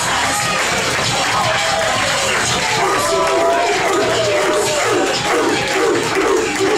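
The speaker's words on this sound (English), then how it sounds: "the crowd are all fired up for this one" A fired-up wrestling crowd roars and cheers steadily throughout, a dense, loud wash of voices from a packed arena ahead of a hard-hitting, high-flying match, with no single voice standing out.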